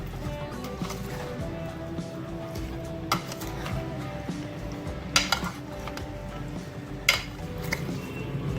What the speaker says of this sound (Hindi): तमाम चीज़ों को मिक्स करेंगे ऐसा ऐसा